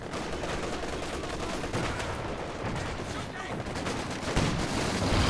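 Anti-tank gun and other weapons firing in Company of Heroes 2, a dense run of overlapping gunshots and blasts in a busy battle, loud and continuous.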